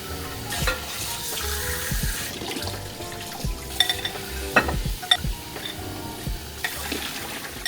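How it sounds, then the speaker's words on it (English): Dishes rinsed under a running kitchen tap give a steady water hiss with scattered clinks and knocks of crockery, close and moderately loud, with no speech. "I'm just gonna rinse the dishes really quick so I can load the dishwasher later"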